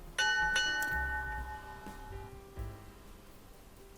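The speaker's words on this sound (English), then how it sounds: "We all heard the bell." A bright bell tone rings out twice in quick succession, leaving a sustained metallic ring that slowly decays over a few seconds in a quiet indoor room.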